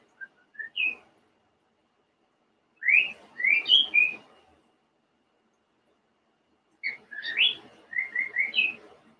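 Pet birds indoors chirping and whistling in bright, rising bursts of song, three separate clusters of quick tweets and whistles separated by short silences, close and clear with no talking.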